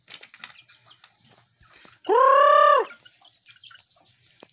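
A chicken lets out one loud, drawn-out squawking call, with faint chirps and soft clucks scattered before and after in a quiet setting.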